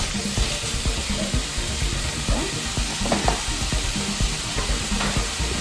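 Ground turkey frying in a pan as it is broken up, a loud constant sizzle with close scraping and clacking of the utensil against the pan.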